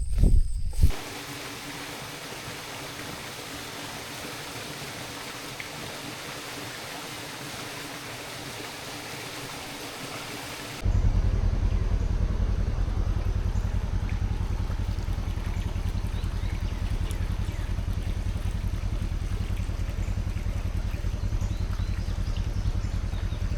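A creek runs full after rain, giving a steady, broad rush of water nearby. The flow grows noticeably louder partway through and then continues unbroken, with no talking.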